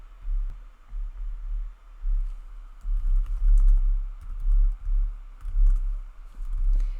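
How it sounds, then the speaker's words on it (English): Someone types on a computer keyboard in quick, soft bursts of key taps with brief pauses, close and fairly quiet, with a low hum underneath and no voices. "just type in all of the product information"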